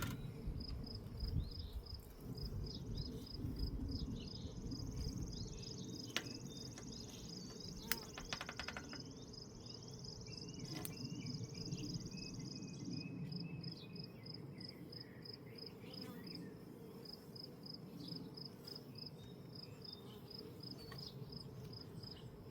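Honeybees swarm around an open beehive during a June hive inspection, making a dense, steady buzzing drone that fills the whole stretch, close and continuous, with no talking.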